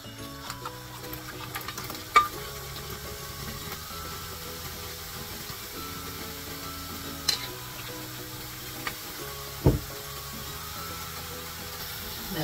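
Large boondi of gram flour batter frying in hot oil for pakoras, a steady low sizzle with occasional clinks and scrapes of a perforated ladle against the pan, no voices.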